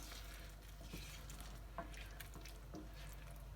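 A spoon stirs amchur powder into a kidney bean rajma curry in a pan, giving soft scraping and bubbling under a faint sizzle, with a few gentle knocks.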